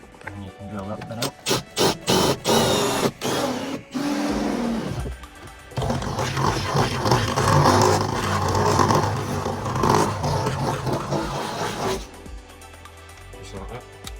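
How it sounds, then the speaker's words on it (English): A power drill buzzes in several short, sharp bursts, then runs in a longer rough grinding stretch close by as it drills out a wire hole for vehicle rock lights, with no talk over it. "And you can drill that bit out."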